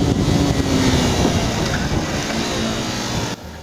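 A Hyosung GT250R motorcycle on a race track braking hard into a corner, heard as a loud, steady roar of engine and wind noise that holds for several seconds before dropping off abruptly near the end.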